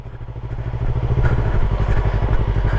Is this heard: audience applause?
no